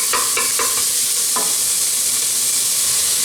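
Beef mince frying in a pan for bolognese sauce, a loud continuous sizzle with a few scraping stirs early on, close up with no talking.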